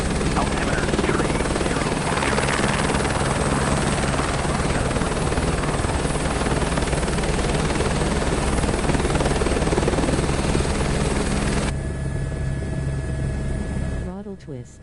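Helicopter rotor and engine in a flight simulator game, a loud steady drone with a thrumming rotor beat that drops away sharply near the end, voice chatter faintly mixed in.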